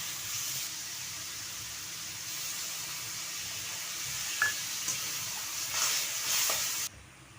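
Water poured onto fried masala paste in a pan for a shrimp and ash gourd curry sets off a faint, steady sizzle, with a few brief clinks and stirring sounds toward the end.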